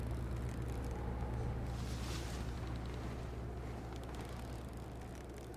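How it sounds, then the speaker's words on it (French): Steady low engine drone of a vehicle in the multiplayer horror game Bigfoot, a continuous rumble with airy wind-like noise on top, fairly loud and unbroken, fading slightly toward the end, with no talk. "Il y a un bruit de moteur là."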